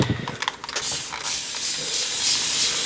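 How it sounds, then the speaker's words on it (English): A few clicking pump actions of a Distress ink spray bottle are followed by a sustained, close hiss of fine mist spraying. "the ink spray. You just spray a little bit of that here and there."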